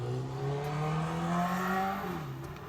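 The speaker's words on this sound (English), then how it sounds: "Excuse the obnoxiously loud motorcycle in the background." A loud motorcycle passes nearby with a sustained, droning engine note that rises and falls, then shifts pitch and fades as it moves off, heard alone.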